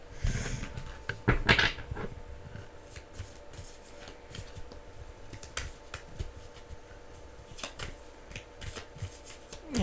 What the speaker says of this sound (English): I need to shuffle some more because I just pulled those cards